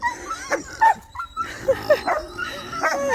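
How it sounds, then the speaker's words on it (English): Several dogs barking and yipping in short, irregular bursts, some whining between barks, fairly close and overlapping. "The dogs are barking because all these animals are invading their space."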